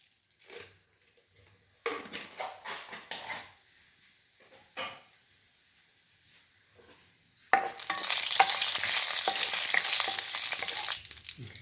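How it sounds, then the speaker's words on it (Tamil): Cumin seeds hitting hot oil in a pan: scattered knocks and clatters of utensils at first, then a sudden loud, steady hiss of sizzling that fills the rest, with a dog barking faintly at times. "ஜீரகம் பொரிஞ்சதும் பொடியாக நறுக்கினா வெங்காயம்"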